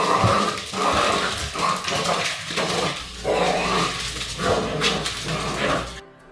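A dog barks and growls in repeated bursts, loud and close, over a dense, busy background.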